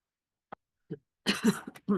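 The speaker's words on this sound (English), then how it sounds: "I've got this tickling and little cough I've still had" A couple of short, soft coughs with pauses between them, then a brief burst of speech-like vocal sound, close to the listener.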